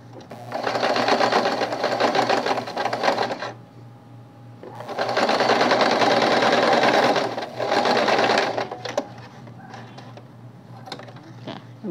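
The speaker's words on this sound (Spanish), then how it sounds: "Hemos cosido como 4 piezas." Sewing machine stitching coat pattern pieces through thick fabric, running in three long bursts of steady mechanical rattling with brief pauses between, close and loud, with a low hum underneath.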